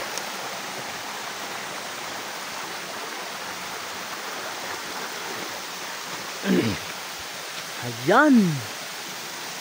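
A tall waterfall roars in a constant, even rush of falling water that fills the whole scene, with two brief voices calling out over it near the end.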